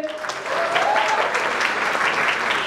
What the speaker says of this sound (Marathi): दे दक्का 2च्या संपूर्ण टीमसाठी एका जोरदार टाळ्या होऊन जाऊ दे.